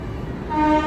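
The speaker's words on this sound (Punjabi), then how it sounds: "ਦੇਖੋ ਜੀ ਹਾਰਨ ਤੁਸੀਂ ਰੈਗੂਲਰ ਸੁਣ ਸਕਦੇ ਆ ਜੀ" A short horn toot from the 22485 Intercity Express at Ludhiana Junction, rising over low rumble in the last half second.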